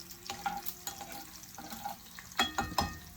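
Jarred garlic drops into a frying pan where bacon is already cooking, giving a faint, steady sizzle broken by a few sharp clicks and scrapes of stirring.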